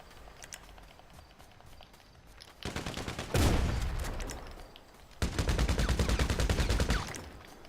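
Gunfire in GTA 5 Online comes as two dense bursts of rapid automatic fire, loud and sustained for a second or two each. Quieter scattered shots sound before the bursts.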